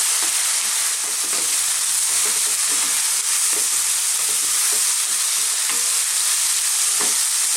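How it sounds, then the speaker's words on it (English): Beef and onions stir-frying over high heat for a Chinese beef and beans dish, a loud continuous sizzle with the ingredients tossed and scraped around the pan in repeated clattering strokes. "we're going to throw this around in the pan for about 2 minutes. High heat all the way."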